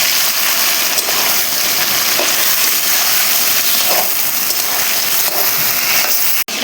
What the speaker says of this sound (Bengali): মাংসটা আমাকে কন্টিনিউ নেড়ে চেড়ে ভাজতে হবে, যাতে কড়াইতে লেগে না যায়।